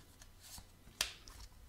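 Tarot cards drawn from a deck with soft sliding and shuffling rustles, then one sharp card snap, quiet and close with no talk over it.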